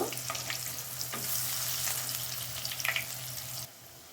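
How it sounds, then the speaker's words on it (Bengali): Cabbage and egg pakoras fry in oil with a close, busy crackling sizzle and a few stirring knocks, then the sound cuts off abruptly near the end. "1 মিনিটের মতো ভেজে নিব"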